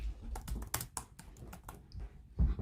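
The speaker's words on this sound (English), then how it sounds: "let's type it in and see" Quick, uneven clicks of a computer keyboard as a search phrase is typed, close and crisp with short pauses between keystrokes.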